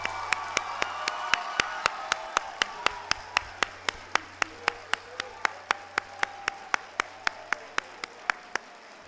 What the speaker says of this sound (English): So can you clap for them like the Grizzlies just won the championship?